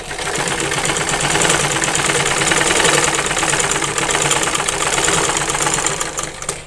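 A sewing machine runs continuously while stitching the side seam of a kameez, a loud close steady whirring and rattling from start to finish with no talk.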